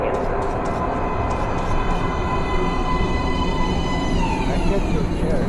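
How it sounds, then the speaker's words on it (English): A train pulls in during the video game Metro: Last Light, a loud steady rail rumble with a descending whine near the end. "Train coming in."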